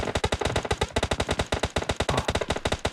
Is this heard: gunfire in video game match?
yes